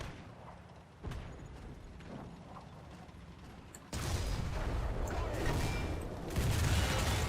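A Panzer IV/70(A) tank destroyer's gun fires in War Thunder, a loud boom at about four seconds lifting into a sustained roar of battle noise, with mechanical rattling and a quieter earlier thump.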